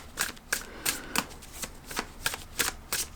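A deck of tarot cards being shuffled by hand, with crisp riffling bursts repeating in a loose rhythm of about eight quick snaps, close and fairly quiet, with no talking.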